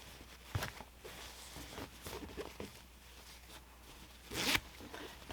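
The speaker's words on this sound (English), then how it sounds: "Here's our zipper." A jeans zipper is worked by hand in a quiet room, giving soft scratchy rasps and short clicks, with a sharp louder zip near the end.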